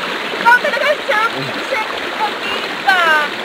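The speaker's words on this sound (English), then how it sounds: "I am trying now to cross this river and of course the force of this water is not too heavy" River water rushes and splashes close by as someone wades across, with a voice speaking over the steady stream.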